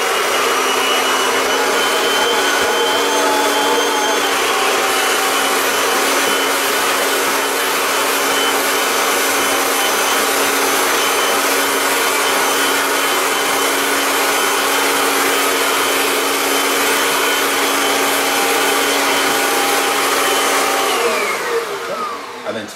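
A Kirby vacuum cleaner fitted with its duster brush runs loud and steady while dusting window blinds, a continuous whining motor drone with no talk, winding down at the very end.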